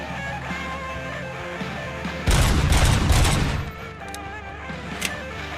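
Burst of pistol gunfire in the Robocop: Rogue City video game, a dense loud volley lasting about a second and a half over steady game background, then fading back to ambience with a faint later shot.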